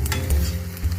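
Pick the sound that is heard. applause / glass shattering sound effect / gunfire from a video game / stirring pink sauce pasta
stirring pink sauce pasta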